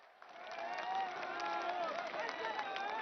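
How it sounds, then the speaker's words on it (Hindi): A large crowd at a PM Modi political rally for the Saryu canal project launch in Balrampur claps together in a dense, steady patter of applause, heard from a distance and fairly soft. "एक बार जोरदार तालियों से सभी का स्वागत करें"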